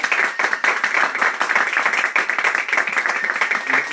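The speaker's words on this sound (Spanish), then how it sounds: "quiero que podamos despedir a Gonzalo con un fuerte aplauso" At a bookstore jersey presentation, an audience gives Gonzalo a hearty round of clapping, with individual hand claps distinct and fairly close, steady and moderately loud.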